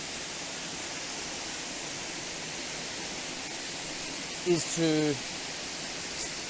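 Junction Falls in Blue Mountains National Park, New South Wales, cascading into cold water, a steady even hiss of falling water throughout, with a brief spoken word cutting in near the end.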